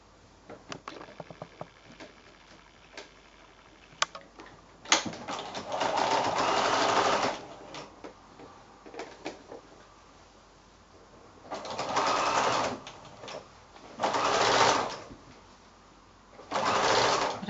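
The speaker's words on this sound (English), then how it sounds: "And then I'll go back to the sewing machine." A sewing machine stitching 1 1/2-inch quilt strips, running in several short bursts of rapid, whirring stitches with quiet pauses and small handling clicks between runs.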